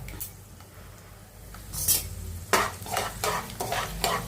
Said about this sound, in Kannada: ಸ್ವಲ್ಪ ಇದನ್ನು ಕೆಂಪು ಫ್ರೈ ಮಾಡ್ಕೊಳ್ಳೋಣ